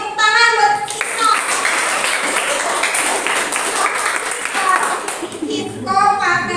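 Students in a classroom clap together during a computer networking lesson, a burst of mixed clapping under children's and a teacher's voices, with talk at the start and end framing the applause.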